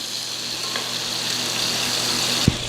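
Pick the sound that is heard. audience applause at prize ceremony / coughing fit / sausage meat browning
sausage meat browning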